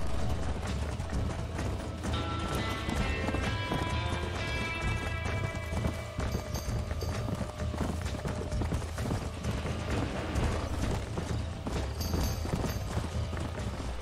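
Horse hooves clip-clop steadily during riding in the PS3 game Red Dead Redemption, a continuous rhythmic clatter mixed into dense in-game music and ambience, loud and close throughout.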